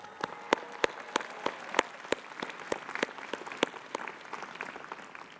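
A commencement audience gives a round of applause, with sharp individual claps standing out over a steady background of clapping.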